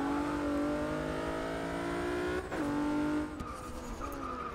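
Race cars roar through a driving video game in a Mazdaspeed 3 challenge, engines holding steady high-pitched tones that shift as gears change, with a brief tire skid partway through and no talking.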